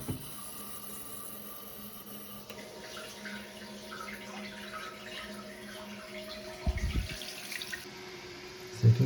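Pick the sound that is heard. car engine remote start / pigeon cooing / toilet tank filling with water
toilet tank filling with water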